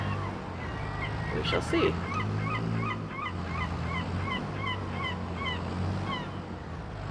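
Rooster and fowl calls on a farm in Farming Simulator 22: a series of quick repeated squawks over ambient outdoor noise, moderately loud, with someone talking briefly over them.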